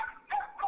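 A dog barks in two short bursts near a Philippine street interview, yelps clipped and mid-pitched with a brief gap between them.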